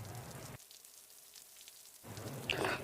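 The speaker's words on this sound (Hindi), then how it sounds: "अरे बारिश का मौसम आ गया है" Steady rain patter with a brief quiet gap in the middle, then the downpour returns with a few sharper drops standing out.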